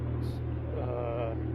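A BMW Z4 E89 idles close by, a steady low engine hum with constant tonal drone, while a voice speaks briefly over it.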